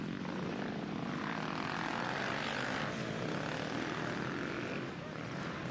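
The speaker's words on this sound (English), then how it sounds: "The Fox FPV drone." A Fox FPV drone flies over an offroad motorcycle race at Southwick, its continuous propeller whine blending into a loud, steady engine roar and crowd wash.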